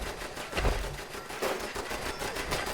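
Rapid gunfire from Fallout 76 crackles in dense, uneven bursts at moderate distance, a steady chatter of shots with no talking.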